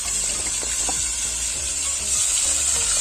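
Fish sizzles steadily in hot groundnut oil, a bright continuous frying hiss close up with small crackles and pops throughout, no talking.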